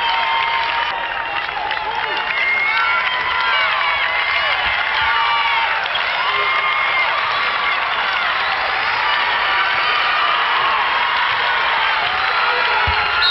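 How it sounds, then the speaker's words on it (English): Columbus basketball fans cheer the Dons from their feet at a high-school semifinal, a continuous loud roar of crowd noise with whoops and clapping mixed in, and a voice talking over it. "fans from Columbus are on their feet cheering the Dons"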